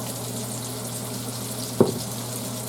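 Sausage fries in oil for penne arrabbiata, giving a soft, steady sizzling hiss, broken once by a single short clunk of a stir partway through.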